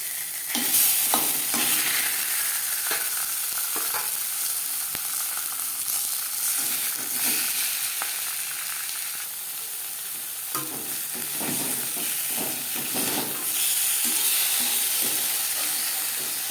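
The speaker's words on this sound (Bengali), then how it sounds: "মাছ খুব হালকা করে ভেজে নেব।" Fish pieces fry lightly in about a spoonful of oil for a crispy fish fry, giving a steady, close sizzle and hiss with soft scraping stirs and occasional clinks throughout, no voices.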